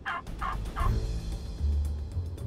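Wild turkey gobblers in Kansas gobble in a quick burst of three rattling calls, loud and fairly close, followed by a low rumbling background.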